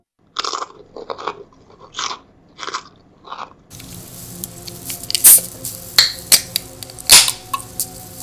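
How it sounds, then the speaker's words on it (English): Crunchy bites into ribs, cucumber and garlic toast, with several sharp crunches and chewing near the mic, the first few bites separated by short pauses and later ones denser over a steadier background. "let's get into our first bites"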